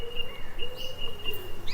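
Birds in a forest near an indigenous village, with soft repeated chirps and thin high calls over a faint steady background, fairly distant and with no voices.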